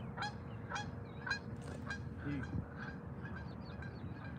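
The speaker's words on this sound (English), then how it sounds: "There's some Canadian geese right there." A flock of Canada geese honks repeatedly in quick, overlapping calls outdoors near water. The calls sound faint and distant over a low background rumble.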